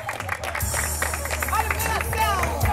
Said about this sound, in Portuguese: Uma salva de palmas pra nossa homenageada